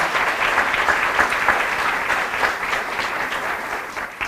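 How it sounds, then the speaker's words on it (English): Sustained audience applause at a chamber of commerce women-in-business expo, a steady dense wash of clapping with no voices over it. "One more round of applause."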